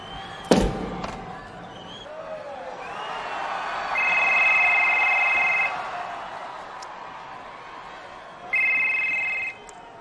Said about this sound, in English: The Texas Rattlesnake wants that phone to ring.